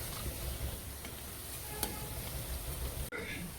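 Mawa gulab jamun fry in hot oil in a pan on high heat and are stirred, giving a dense, steady sizzle with a few faint scraping ticks and a brief pause near the end.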